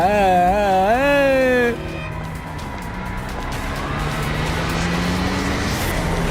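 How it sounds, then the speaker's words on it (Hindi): Car accident sound effect: a vehicle's tires squeal in a loud wavering screech, then cut to a lower rumbling roar of a car and background noise that continues to the end. "उसका एक गाड़ी से एक्सीडेंट हो गया।"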